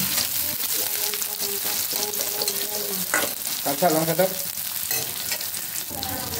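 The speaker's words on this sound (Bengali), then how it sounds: "কড়া গরম করে 5 ফোড়ন দিয়ে পেঁয়াজ আর জিরে দিয়ে ভালো করে তেল দিয়ে পেঁয়াজটাকে ভেজে নেব" Onion, cumin and five-spice seeds fry in very hot oil in a pan, producing a loud, dense, continuous sizzle with crackles and spitting bursts throughout and no voices.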